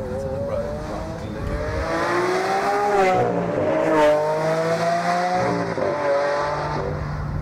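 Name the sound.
Lamborghini Aventador driving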